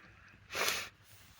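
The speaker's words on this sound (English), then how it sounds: "excuse me for sniffing and everything" A single short, breathy sniff or snort through the nose, close and fairly quiet, with near silence before and after.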